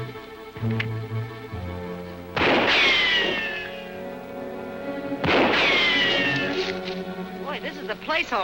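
Two loud gunshots in an old radio drama, each a sharp blast trailing into a whining, falling ricochet, spaced a few seconds apart, with a voice at the end.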